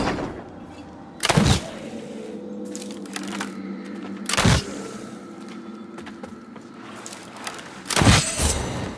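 Ranged attacks in the video game Lords of the Fallen: three sharp, loud cracking shots with splintering impacts spaced a few seconds apart, over a quiet game ambience, no speech.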